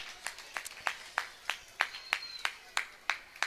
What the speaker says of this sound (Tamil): நல்ல கைத்தட்டல் கொடுங்களேன்